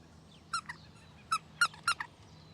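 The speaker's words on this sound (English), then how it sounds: "But it's got a squeaker in." A squeaky dog toy is squeezed in a few short bursts, five faint, high-pitched squeaks spread unevenly over a couple of seconds against a quiet background with no talking.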